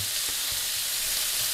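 Organic bacon fries in a Stoneline pan with a steady, close, loud sizzle and crackle throughout, no voices.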